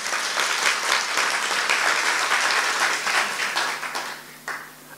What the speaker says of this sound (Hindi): तो बजाओ भाई